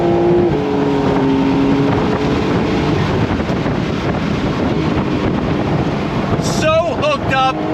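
A Porsche 992.1 911 Carrera S revving hard toward 7,500 RPM, loud engine roar mixed with heavy wind buffeting, ending with sharp shifts, and a voice is briefly heard.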